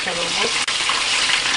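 Breaded chicken frying in a pan with onions, a dense, loud, steady sizzle and crackle heard up close, with a faint voice underneath at the start.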